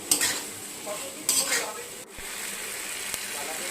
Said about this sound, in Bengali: পনিরটা দিয়ে ভালো করে নাড়তে থাকুন